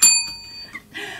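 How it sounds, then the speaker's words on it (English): Notification bell sound effect: a single bright ding that rings out and decays, followed by a short soft chime. "Don't forget to ring the bell"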